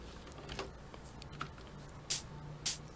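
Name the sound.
computer keyboard typing while playing rhythm game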